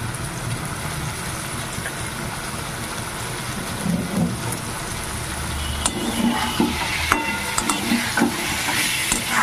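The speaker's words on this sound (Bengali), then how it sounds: "মাছগুলো কিন্তু আমি ভাজিনি, এখানে এই মশলার সঙ্গে ভেজে দেবো।" Prawns frying in a spice masala in a home kitchen, a dense steady sizzle and spatter with louder scraping and knocking of a spoon stirring the pan in the second half, close and continuous, with no talk.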